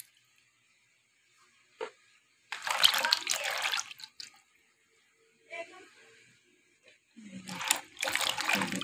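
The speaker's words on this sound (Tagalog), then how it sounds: "Isang hugasan naman ito. Ito mga hugasan na madulas." Vegetables for a shrimp and vegetable dish being washed by hand in water, with bursts of splashing and sloshing separated by quiet gaps and an isolated drip or clack, close and moderately loud.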